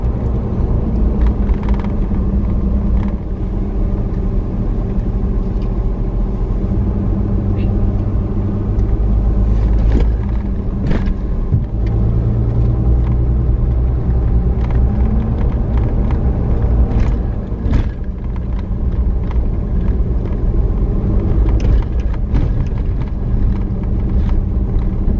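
Low rumbling of a vehicle rolling slowly along a bumpy dirt road at a Florida ranch preserve, a continuous near drone with scattered jolts and rattles throughout.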